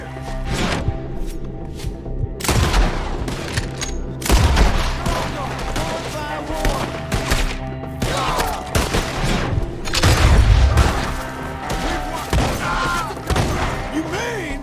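Gunfire in a Red Dead Redemption 2 shootout, with dense volleys of loud rifle and pistol shots cracking in rapid bursts and heavy booming impacts, while voices shout over the battle.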